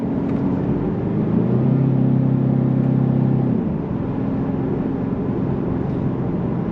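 A 2023 Genesis G70 3.3T engine hums steadily from inside the cabin, its tone rising and holding, then dropping sharply as it shifts up on the paddle shifters, followed by a lower, settled drone.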